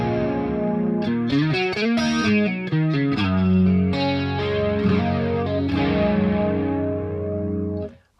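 Electric guitar chords shimmer with a warbling, doubled chorus effect from a PolyChrome DSP pedal, strummed and arpeggiated for several seconds before fading out abruptly.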